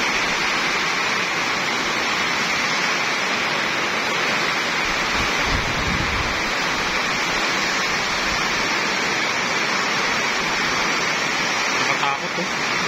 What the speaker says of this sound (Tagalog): Lumakas pa yung hangin,